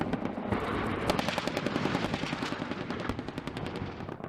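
A 20mm Gatling cannon on a Super Cobra attack helicopter fires rapid continuous bursts over the steady thump of rotor blades, loud and sustained for several seconds.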